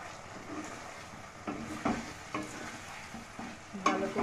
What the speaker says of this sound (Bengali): এই মশলাটার মধ্যে এটাকে মিশিয়ে নিতে হবে।